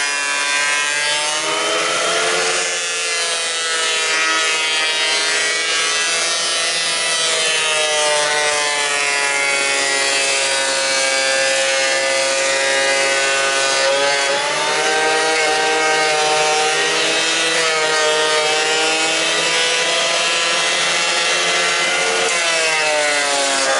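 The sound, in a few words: cheap planer planing lumber for wainscoting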